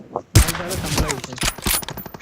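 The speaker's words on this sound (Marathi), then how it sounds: "बायझन मारतो एवढं लांबून." Bizon submachine gun fire in PUBG on the Erangel map, a loud rapid burst of game gunfire with several quick shot bursts close up, mixed with a player's voice.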